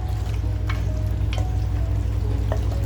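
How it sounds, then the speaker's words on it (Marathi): Salted mutton frying in a hot pan, a steady dense sizzle with a low burbling hum underneath and a few light scrapes of a stirring spoon, close and continuous with no talk. "आणि 4 ते 5 मिनिटं आपल्याला हे मस्त असं फ्राय करत राहायचंय."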